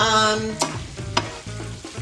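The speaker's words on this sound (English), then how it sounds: "They've been sizzling for about 2 minutes." Food sizzles steadily in a pan, with a few sharp scraping stirs breaking through the hiss.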